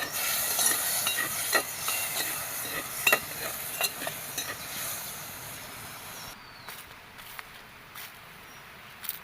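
A sardine curry masala fries in a pan as it is stirred, giving a steady sizzling hiss with repeated spoon scrapes and clicks. The sizzle drops to a quieter simmer near the end.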